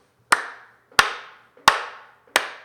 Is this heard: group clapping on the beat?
yes